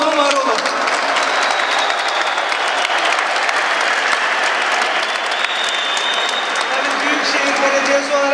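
Audience applause at a municipal event in Turkey runs loud and unbroken, a thick crowd of clapping hands that carries steadily through the whole span with a faint voice over it near the end.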